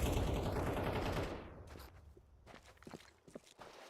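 Gunfire and footsteps in Counter-Strike 2 on the Dust 2 map: a loud dense burst of shots fades after about a second, then scattered quieter clicks and steps follow.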